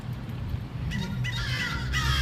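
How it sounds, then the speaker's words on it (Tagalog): Large crows caw repeatedly outdoors, harsh calls overlapping at moderate distance over a steady low ambient rumble, with no talking. "Oh, ang laki ng mga uwak."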